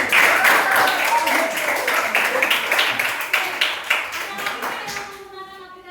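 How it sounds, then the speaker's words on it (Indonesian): A room full of people claps together, a dense burst of applause that thins into scattered claps before fading out. "Oke, tepuk tangan buat Nadi."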